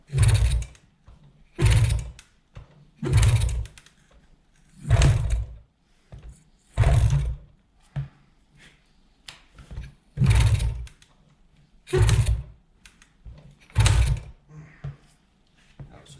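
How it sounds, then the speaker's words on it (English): A 1973 Kawasaki G5 two-stroke motorcycle engine being cranked to fire, giving a run of about nine loud, regular bursts of low mechanical churning, each roughly a second apart with short quiet gaps between. "you're not supposed to really do this on two-stroke, but I'm just curious to see if it will fire off"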